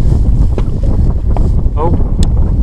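Steady wind buffeting the microphone on a fishing boat running a trolling motor out on open water, a continuous low rumble with gusts throughout, and a faint voice briefly under it.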